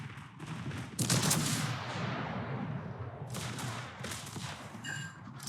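Secondary battery guns aboard the battleship Libertad fire in World of Warships, a dense, continuous rattle of rapid booming shots with louder bursts near the start and the middle, and no talking.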